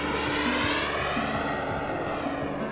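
Small RC model jet engines roar steadily at a jet gathering, a loud continuous turbine whine with shifting tones as planes pass, no voices.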